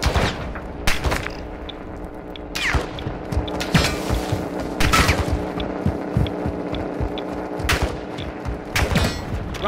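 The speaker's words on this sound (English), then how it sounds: "You are taking effective fire." Gunfire in Call of Duty Warzone 2.0 DMZ mode on the Al-Marzah map: repeated sharp shots and bursts with heavy thuds and mechanical clatter, loud and close amid ongoing game noise.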